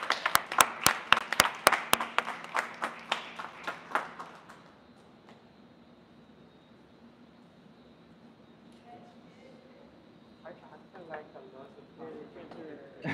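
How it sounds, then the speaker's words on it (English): A small group claps in a quick burst of sharp, distinct hand claps at a Christmas tree fire safety demonstration, fading after a few seconds into quiet room tone with a faint hum and scattered later noises. "Everyone give a big round of applause to Fritz for"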